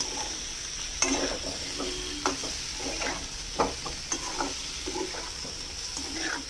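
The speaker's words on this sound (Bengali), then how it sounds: "ভালো করে নাড়াচাড়া করে নিলাম।" Potatoes for aloo dum stirred in a pan: repeated spatula scrapes and clicks against the metal over a low, continuous sizzle.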